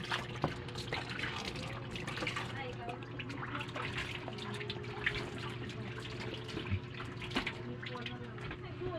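Tap water runs steadily into a sink with occasional drips and splashes, a continuous low wash under a humming background and bursts of nearby conversation during dinner cooking.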